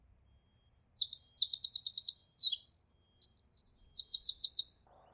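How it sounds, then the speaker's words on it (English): Birds sing along a path at Thameside Nature Reserve, several bright trilling and chirping phrases following one another without pause, clear and fairly near, with no talking. "as I walk along it I can hear a good variety of birds"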